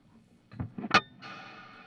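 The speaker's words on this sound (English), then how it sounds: "almost like a splash of reverb a few seconds later, or a few milliseconds later" A guitar played through a reverb pedal with pre-delay turned all the way up: a few picked notes, then a delayed bright splash of reverb that swells and rings on, alone and fairly close.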